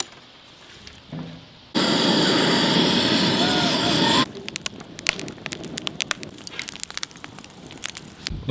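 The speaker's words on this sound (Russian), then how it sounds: "Друзья, пока огонь разгорается" Fire flaring up in a grill for cooking skewered Azerbaijani-style mini steaks: a loud, steady roaring whoosh for a couple of seconds, then sharp crackles and pops continuing nearby.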